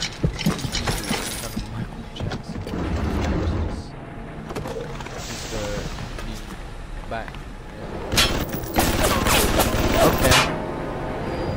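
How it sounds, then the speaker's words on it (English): Turret gunfire rattles in BioShock, with bursts of rapid shots and impacts mixed with other game noise, loudest near the start and again toward the end, under a voice. "there was a turret there"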